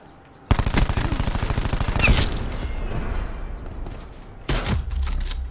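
Submachine gun in the video game Black Ops 4 firing a long, rapid, loud burst of shots, then a brief pause and another sustained burst, heard up close with no voices.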